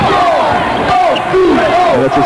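Home crowd at a 1992 college basketball game, Illinois State Redbirds at Bradley Braves, roaring and cheering steadily throughout, with a commentator's voice carrying over the noise.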